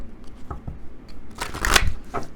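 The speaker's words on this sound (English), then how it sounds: "let's draw a few of the I Love the 80s Oracle cards" Oracle cards from an I Love the 80s deck being shuffled by hand, a few quick papery riffles and flicks close to the microphone, strongest in the second half.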